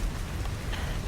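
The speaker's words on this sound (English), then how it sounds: "It's already raining." Rain falling in a thunderstorm setting within a game, a steady hiss of drops on surfaces, even and moderately loud throughout the short stretch, with no talk.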